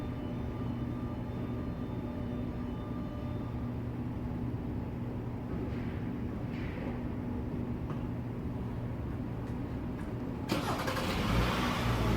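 Car engine started remotely by the UVO system, a low steady idle hum that continues, then a louder surge near the end as the engine picks up, with no voices.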